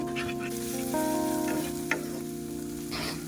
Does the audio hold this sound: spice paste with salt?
yes